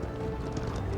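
Hooves of a flaming horse mount galloping in the video game Paladins, a steady rapid clip-clop under dense game sound, no talk.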